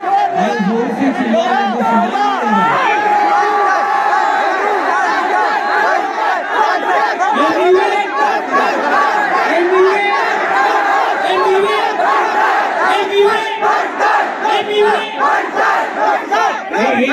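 Crowd at an Emiway Bantai live rap show at Zomaland in Delhi shouts and cheers without pause, a dense, loud roar of many voices filling the whole stretch.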